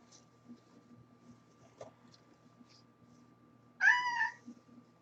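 A young cat gives one short meow, close by, in an otherwise quiet room. There are faint small clicks and a low electrical hum around it.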